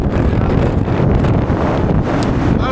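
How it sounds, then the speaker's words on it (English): Strong wind on Mount Gulugod Baboy in Batangas, Philippines, buffets the microphone with a loud, continuous roaring rumble, heard alone. "As you can see, it is super windy."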